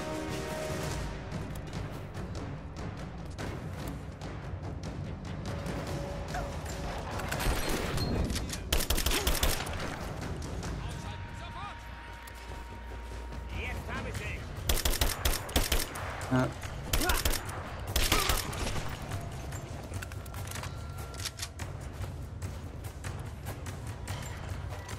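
Rifle fire in the video game Rise of the Tomb Raider comes in rapid bursts over a busy game soundscape, with someone talking at times in between.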